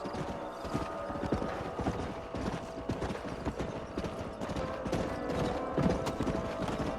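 Horses in Red Dead Redemption on Xbox 360 trot with a steady, rhythmic clip-clop of hooves and an occasional neigh, heard fairly quietly alongside light mechanical rattling.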